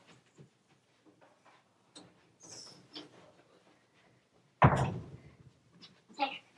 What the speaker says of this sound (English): will you go shut my door so we don't hear Dad?